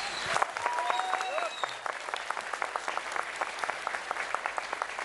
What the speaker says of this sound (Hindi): एक ये प्यार है लोगों का जो इतनी तालियां इतनी देर तक बजती हैं